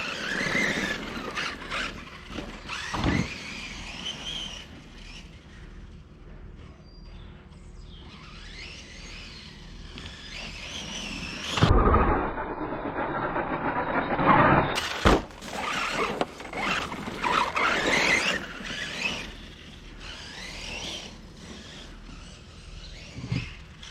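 A Losi Tenacity RC car with a 2600KV motor on 4S power, its electric whine rising and falling in repeated squealing bursts as it accelerates, with a sharp loud burst near the middle, close and with no voices.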